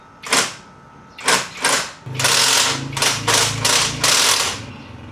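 An impact driver loosening the wheel nut on a Vespa scooter raised on its center stand: loud, close hammering rattles in short bursts at first, then a longer run of repeated bursts with brief pauses between them.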